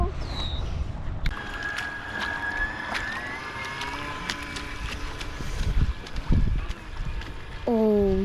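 A homemade wooden RC boat, a Century Sea Maid replica, runs on open water with a whining electric motor tone that holds steady, over wind buffeting and splashing, and a rising whine near the end as it speeds up.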